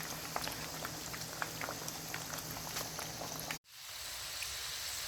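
Plantains sizzle and crackle in hot oil in a pan over medium-high heat, a dense steady fry close by with scattered pops. After a sharp cut the sizzle carries on, slightly softer, with no talking.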